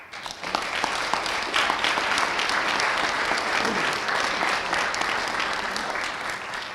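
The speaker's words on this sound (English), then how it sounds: "we'd like to give you a round of applause" A room of people at a library ribbon-cutting claps for library board members, steady close applause filling the whole stretch without a break.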